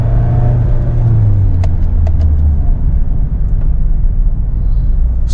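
Mahindra XUV700 accelerating in Zoom drive mode, heard as a loud, steady, low engine and road rumble that fills the whole stretch with no clear breaks.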